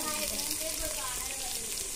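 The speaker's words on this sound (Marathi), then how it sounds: "आता त्यामध्ये आपण आलं लसूण पेस्ट टाकू।" Ginger-garlic-coriander paste sizzles in hot oil in a pan over a wood-fired stove, a steady close frying hiss under a speaking voice.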